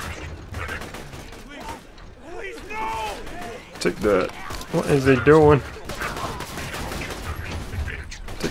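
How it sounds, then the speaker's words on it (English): Explosions and gunfire in the shooter game Borderlands 2, bursts of rapid shots and blasts rising to a loud peak midway, heard under a player talking. "Explosions everywhere"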